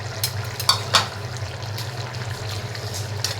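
Potatoes cooking in a pan with dried fish are stirred, producing soft scraping and a few sharp clinks over a low, steady simmer, close by with no talking.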